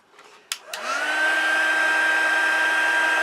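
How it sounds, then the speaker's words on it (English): An embossing heat tool switched on to its second setting, a couple of clicks and then a steady, loud whooshing blow of hot air with a constant motor whine that holds without a break. "Now let's try it again with our heat tool."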